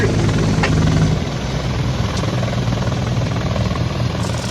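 A V-22 Osprey tiltrotor aircraft flies overhead near an airport in Whitehorse, giving a loud, steady rotor drone and rumble that fills the whole stretch, slightly stronger at the start.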